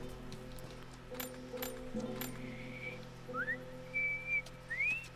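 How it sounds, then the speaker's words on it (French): A character in The Last of Us video game whistles a short melodic tune, a few rising and sustained notes over a quiet, steady ambient game hum. "Hé, je siffle."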